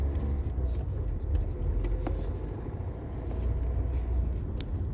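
Car interior during a driving lesson, a steady close engine drone and road rumble with faint ticks, holding an even level as the car moves through the gears.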